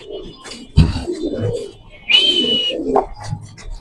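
White Bombay pigeons cooing at a pigeon seller's place in Mirpur, Dhaka, with two short bursts of low throaty coos and a voice talking nearby.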